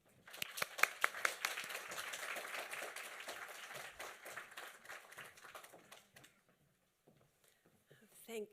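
An audience claps in welcome for a keynote speaker at a theatre conference, a burst of dense, close applause with a few sharp claps up front that thins out and fades to near silence.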